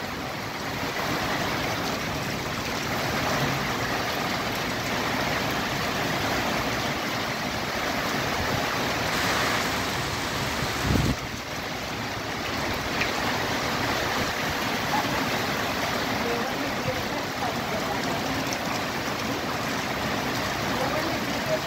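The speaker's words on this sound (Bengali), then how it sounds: "এটা অবশ্য ঝড়ের গতিতে বৃষ্টি এবং তার সাথে ঝড়" Heavy storm rain driven by strong wind sweeps over farm fields, a steady loud roar of rain and gusts that holds throughout with a brief louder surge midway.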